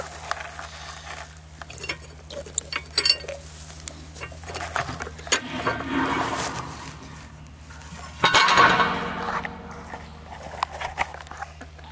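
Caps lifted off water supply covers at a house being built, giving scattered light clinks and knocks, then one louder scraping clatter near the end, close to the microphone.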